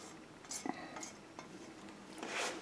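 Pasta con le sarde, a pasta dish with toasted panko breadcrumbs and sautéed vegetables, being mixed in a pan, giving a few scattered clinks and scrapes of utensil against pan, with a soft stirring rustle at a moderate level.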